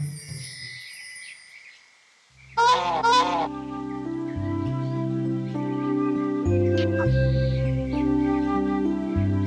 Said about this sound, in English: My Abu was actually a goose.